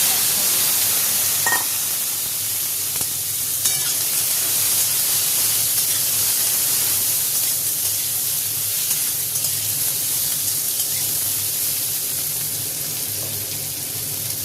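Snake gourd and green chillies hit hot oil in a pan already holding lightly fried fish head and cumin seeds, giving a steady broadband sizzle and hiss that holds fairly loud and even throughout, with no talking.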